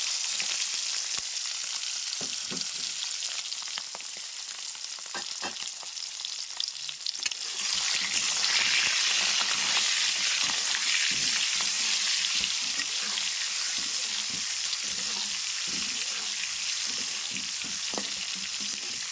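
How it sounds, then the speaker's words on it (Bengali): Eggs frying in hot mustard oil in a wok give a continuous sizzling hiss that swells louder midway, with scattered scraping and stirring clatter throughout. "এখন এই মাখিয়ে রাখা ডিমগুলো আস্তে করে কড়াইতে দিয়ে দেব।"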